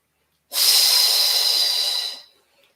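A single long breath during a Pilates ring exercise, a close, loud airy hiss lasting about a second and a half before fading out, with no talking over it.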